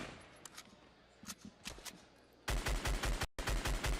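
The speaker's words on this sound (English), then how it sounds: "Even when he's shooting just the assault rifle." Assault rifle fire in the Fortnite video game: a few faint scattered shots and clicks, then a loud rapid automatic burst with a brief gap before it resumes, with no talk.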